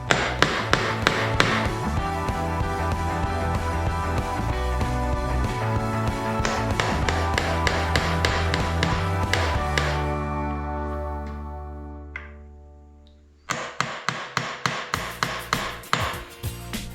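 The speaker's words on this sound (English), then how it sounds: "So I use a punch to just set it down below the surface." Rapid hammer taps on a nail punch setting a nail below the surface of wood, in bursts, fading out midway before a fresh series of sharp, evenly spaced strikes resumes near the end.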